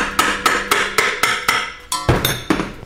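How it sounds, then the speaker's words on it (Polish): Hammer lightly tapping the oil pan of a Briggs & Stratton 875EX Series 190 cc engine during disassembly, a steady run of about a dozen close, sharp metallic knocks roughly every quarter second, with no talking. "w mocniejszych miejscach misy olejowej można lekko popukać"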